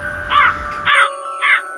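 Crow cawing three times in an even rhythm, loud and near, each caw harsh and clipped, with no voices.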